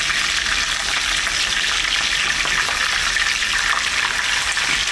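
Pigeons frying in a pan as they are turned, producing a loud, dense and continuous hissing sizzle that stays even from start to finish with no voices.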